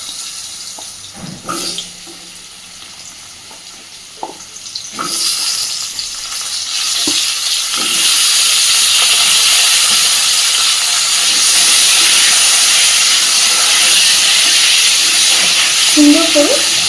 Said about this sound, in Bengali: এইবার কেটে রাখা আলুগুলোকে সব তেলের মধ্যে দিয়ে দিচ্ছি।